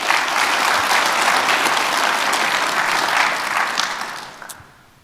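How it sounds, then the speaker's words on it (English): A conference audience claps in sustained applause at an awards presentation, a dense steady roar of many hands that holds strong for about four seconds before thinning and fading out at the end. "So let's give Andy a round of applause"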